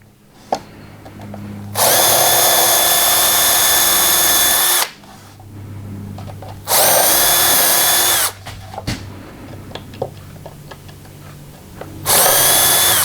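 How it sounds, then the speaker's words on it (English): A brad point drill bores through a pilot hole in wood in three loud, steady bursts of high whine, separated by quieter pauses with small handling knocks. "So the Vicks bit hole is acting as a pilot hole to steer the point of the brad point drill down through the hole."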